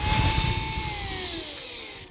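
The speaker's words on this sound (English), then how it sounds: "All right, so we're going to drill the first pilot hole." A power drill bores a pilot hole in wood for a wine rack, its motor whining steadily and slowly dropping in pitch as the bit bites, loud and close with no talk.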